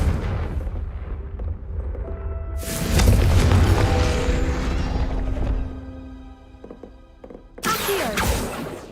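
The Confringo explosive spell in Hogwarts Legacy bursts with a heavy boom and rumbling roar that fades, followed by a second sharp blast near the end, close and loud with no talk.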